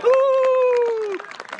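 At a disc golf pro tour event, a crowd bursts into applause and clapping after a shot, loud and close at first and then thinning into scattered claps, with a sustained cheering voice rising above it.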